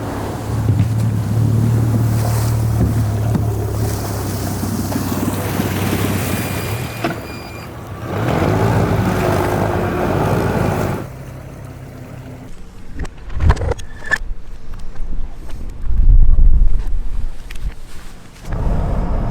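Bass fishing boat idling out on the Sabine River, a steady engine drone mixed with strong wind buffeting and water noise, loud and close at first, then easing into quieter splashing and knocking toward the end.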